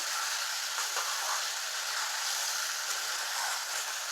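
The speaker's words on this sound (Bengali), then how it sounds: "মশলা তেল ছেড়ে দিয়েছে এবার আলুগুলো দেবো আলুগুলো দিয়ে একটু কষিয়ে নেবো" Potatoes frying in hot oil spiced for a paneer and potato curry give a steady, close sizzling hiss that holds evenly throughout, with no voices.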